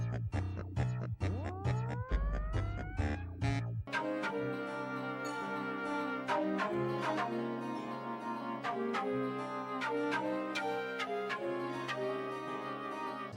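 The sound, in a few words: video game background music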